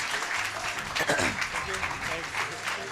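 A crowd applauds at the opening of the Food For Mzansi agri career fair livestream in South Africa, with a continuous wash of clapping while a voice speaks over it.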